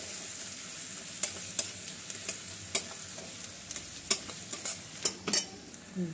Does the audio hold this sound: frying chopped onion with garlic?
yes